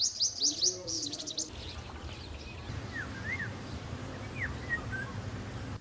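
Garden birds chirp around a guest house lawn, with a quick burst of bright tweets at the start and then scattered, fainter calls over a low background hum.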